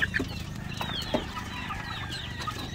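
A flock of chickens with a rooster clucks busily while feeding, overlapping close chatter and soft calls over a steady low farm background.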